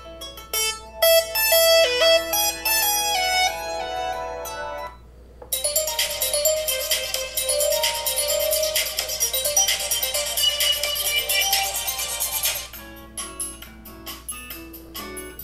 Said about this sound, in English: let me go ahead and play that ringtone once again and several others